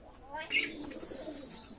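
Teddy pigeons give soft, brief coos close by, under a voice talking over them.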